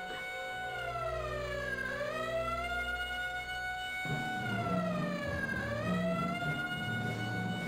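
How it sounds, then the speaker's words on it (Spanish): A loud electronic alarm siren in the PS1 game Medal of Honor Underground wails continuously, its pitch sweeping down and back up in slow cycles, with a synthetic game-like tone. "tiraron la alarma"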